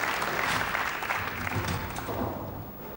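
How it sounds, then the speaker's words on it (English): Crowd cheering and applauding at a Weber Cup 2011 ten-pin bowling match, a loud, sustained roar of an arena audience filling the whole stretch before cutting off abruptly at the end. "Greeted with a big cheer"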